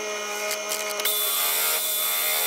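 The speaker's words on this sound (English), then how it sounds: "I'll buff this in." A sycamore burl bowl spins on a wood lathe while being buffed, giving a steady, loud whirring rub with a brief shift partway through before the even hiss settles in; no talking.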